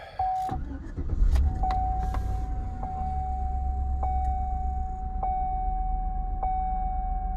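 Chevy truck with a 5.3 Vortec engine, heard from inside the cab while driving, a steady low engine rumble under a repeating electronic chime tone, with a few clicks at the start.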